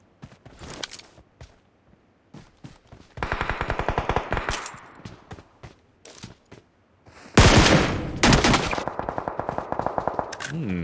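Gunfire in a PUBG Mobile battle royale tournament match: sharp single shots and short bursts lead into loud, rapid automatic fire in two long strings, with quieter scattered shots between them.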